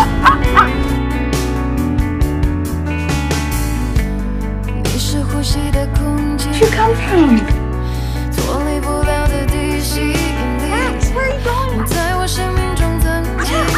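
A dog barks repeatedly and whimpers up close, with loud yips and whines coming in quick, irregular bursts over a busy background.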